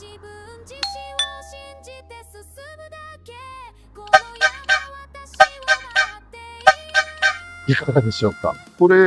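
A cheap Yankee-style air horn fitted to a Stingray blasts in a run of short, bright honks, sparse at first and then in quick succession, while a person speaks briefly.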